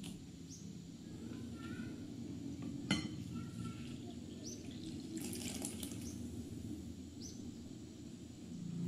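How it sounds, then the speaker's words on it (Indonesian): A milk and activated yeast mixture, bubbly on top, is poured into flour in a kitchen, giving a steady soft liquid stream with faint clinks and low background hum. "Tuangkan campuran susu dan ragi yang sudah aktif."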